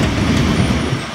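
A 2002 Gillig Low Floor bus with a Cummins ISL engine and Voith 6403 transmission rumbles loudly in a deep, steady, bassy drone, heard from inside on Santa Clara VTA Route 23.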